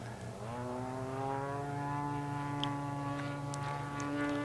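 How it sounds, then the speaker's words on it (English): A large radio-controlled model airplane flies a knife-edge loop, its engine and propeller droning steadily with a rising, sustained pitch, loud and close throughout with no talking. "The sound of these things coming down the backside of the knife edge loop, particularly the large models, is really impressive."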